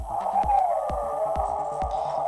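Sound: electronic static buzz from a handheld Super Famicom-style console

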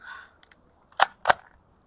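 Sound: pistol shot fired at steel target outdoors

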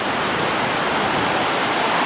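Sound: stream flowing near waterfall at Melkevoll Bretun campsite

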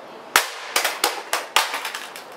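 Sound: handheld gaming device dropped on the ground

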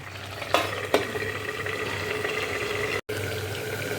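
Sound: stirring egg curry in a pan

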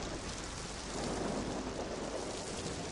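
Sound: rain and thunder of a storm

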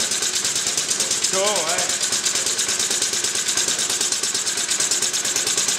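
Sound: engine running on sump oil and petrol via GEET fuel reformer

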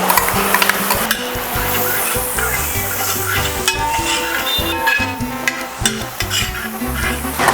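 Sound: frying ginger, green chili and garlic in a pan

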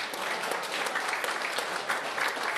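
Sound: applause at a wedding

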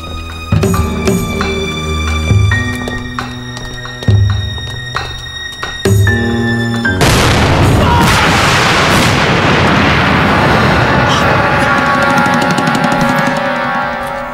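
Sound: homemade time bomb exploding

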